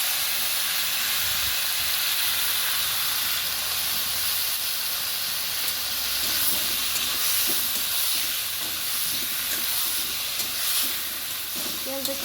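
Puti fish sizzling in hot oil in a pan with browned onion for a spicy fish curry, a steady loud hiss throughout with occasional faint stirring clatter.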